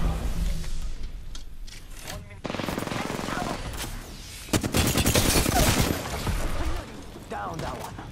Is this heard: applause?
no